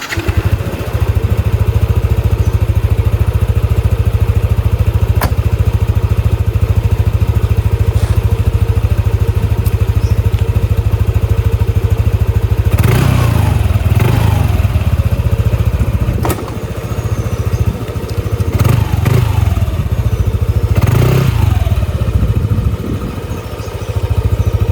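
Yamaha NMAX scooter on its stock exhaust, idling steadily with a low, loud continuous engine drone, punctuated near the end by a few brief throttle blips that rise and fall.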